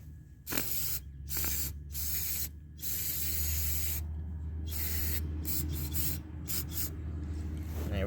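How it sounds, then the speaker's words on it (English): Aerosol spray hissing onto the top of a Briggs and Stratton generator motor, a loud close continuous spray broken by several short pauses and bursts, over a low background hum. "I'm gonna spray the top down."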